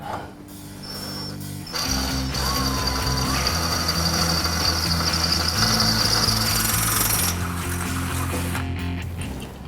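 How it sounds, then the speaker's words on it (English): A power drill with a 21/64 inch bit grinds loudly nearby, enlarging a hole in a Ford F-150 for a reverse light, motor droning and shifting pitch as it bites through, a high whine riding on top. "Now we're going to drill it out with a 21/64 inch drill bit."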